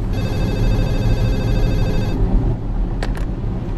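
A telephone rings loudly for about two seconds with a bright electronic trill, then falls quiet and gives two brief, sharp chirps.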